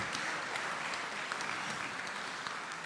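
An audience at a music awards ceremony in a venue applauds: steady, dense clapping from a crowd, even and continuous for about three seconds, with no voices over it.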